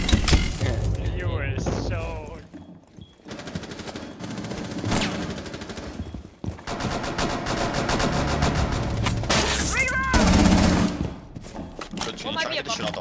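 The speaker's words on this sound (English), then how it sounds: "had to shoot out the wall." Rapid automatic gunfire shoots out a wall in Rainbow Six Siege, loud bursts with breaking and cracking debris, broken by short pauses, with voices talking in between.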